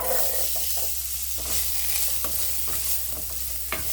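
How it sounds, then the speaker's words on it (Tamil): Radish frying in hot oil in a kadai gives a steady, close sizzle throughout, with soft scraping stirs breaking through at intervals. "முள்ளங்கி நல்லா அந்த லைட்டாக அந்த கோல்டன் ப்ரௌன் ஆகிற அளவுக்கு வதக்கிக்கோங்க"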